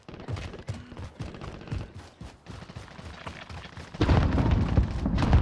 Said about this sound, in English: Small caliber rounds here.